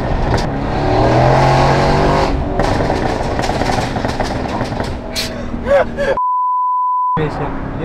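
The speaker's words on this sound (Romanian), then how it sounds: "Softul de pops and bangs, asta înseamnă." A 700 hp Mercedes C63s in Sport Plus mode with its exhaust opened up roars loudly under hard acceleration, crackling with pops and bangs, before a steady electronic beep tone cuts in near the end.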